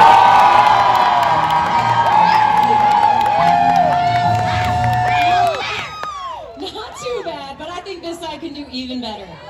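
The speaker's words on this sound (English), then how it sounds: "I need you to cheer on Cooper as loud as you can" A crowd cheers loudly in an arena at an animal actors show at Universal Studios Hollywood, with children's shouts and whoops sustained for about six seconds before the noise drops and a voice talks over the scattered crowd.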